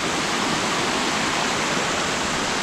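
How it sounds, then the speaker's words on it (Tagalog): A waterfall on a hiking trail pours steadily, a loud, dense, unbroken rush of falling water heard alone without any talk. "May falls dito, pre. Pre, may falls."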